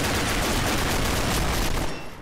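Rapid, continuous gunfire in the online shooter Combat Arms, a dense loud burst of overlapping shots filling the whole moment before tapering off at the end.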